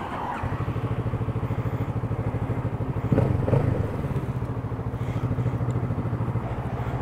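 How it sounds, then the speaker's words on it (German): A Kawasaki Z motorcycle rated at 48 PS starts with a brief crank, then settles into a loud, close, steady pulsing idle with one short throttle blip partway through. "wir starten das Ding mal hier kurz."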